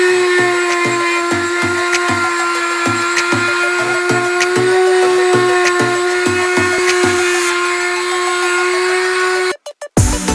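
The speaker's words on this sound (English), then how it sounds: "You're just basically sanding the last grit down smoother till you get a nice shiny finish." Power sander working over 20-inch aluminum Duramax Denali wheels during refinishing, a loud steady whine with a rhythmic pulsing underneath, running continuously before cutting out with a few sharp knocks at the end.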